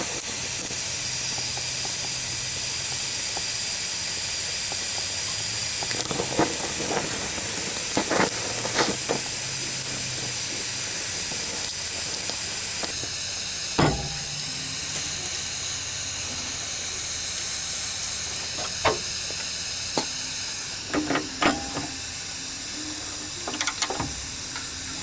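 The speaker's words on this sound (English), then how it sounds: "I'm going to take my torch and heat it up just a tad right around the nut" A blowtorch hisses steadily and close for the whole span as it heats a rusted shock bolt nut on a Jeep Wrangler TJ, with a few sharp clanks and taps scattered through, and no talking.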